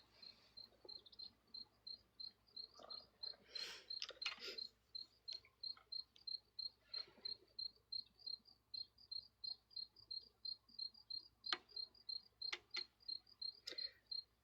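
Crickets chirp in a steady, rapid pulsing rhythm throughout, with scattered faint rustles and knocks in the background.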